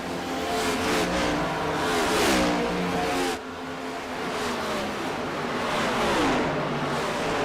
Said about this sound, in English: There goes Brendan Maddox on by in the number 8 car.